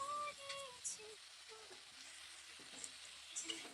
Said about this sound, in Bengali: 3 থেকে 4 মিনিটের জন্য ভালোভাবে ভেজে নিচ্ছি